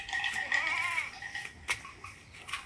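Goats bleat in a pen, a wavering nearby bleat followed by fainter calls and shuffling, with low farmyard background.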